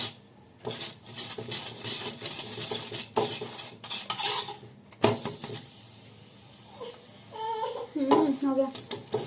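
Ghee sizzles on a gobi paratha in a pan amid utensil scrapes, clinks and stirring sounds, with bursts of activity, brief pauses and some faint voices near the end.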